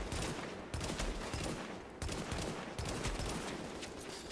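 M14 rifle gunfire in Tom Clancy's The Division, loud repeated shots at about one-second intervals with sharp onsets, each followed by a dense rumbling tail, with no speech.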